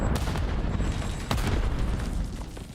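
A grenade explodes in Call of Duty, a deep booming blast amid dense ongoing battle noise, with one sharper burst midway.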